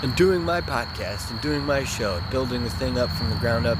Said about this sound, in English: You could probably hear the crickets in the background